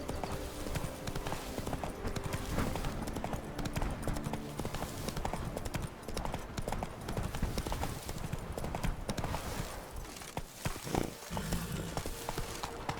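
Roach, the horse in The Witcher 3, gallops with rapid, rhythmic hoofbeats over game ambience, fairly close and continuous throughout.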